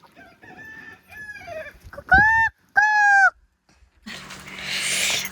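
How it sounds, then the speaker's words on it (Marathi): Chickens roam freely outside a village house. One loud bird crows several times in quick succession, close by, among softer clucks, and a brief burst of broadband noise follows at the end. "ओ कोंबड्या बघा काहीच, डायरेक्ट सोडून दिलंय"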